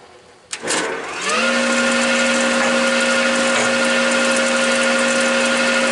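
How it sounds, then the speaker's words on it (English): Wood planer feeding scrap wood pieces: a sharp clack, then the motor spins up into a loud, steady whine that holds close and constant, with no talking. "So let me run this through the planer now."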